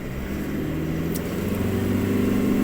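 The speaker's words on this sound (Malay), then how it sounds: "rev range naik, and then you can feel the car accelerating" A Toyota Hilux Rogue pickup truck accelerating: a steady, close engine drone that rises slowly in loudness as the revs climb, heard alone with no talk.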